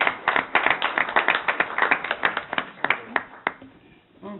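A round of applause at a city council meeting: sparse, uneven hand claps from a small group, close and fairly loud, thinning out toward the end.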